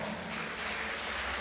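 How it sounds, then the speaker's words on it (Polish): A crowd at a fight gala claps in steady, dense applause for the losing fighter, a continuous wash of hands from a hall audience. "brawa również dla przegranego!"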